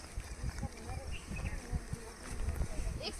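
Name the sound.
honey bees buzzing at beehives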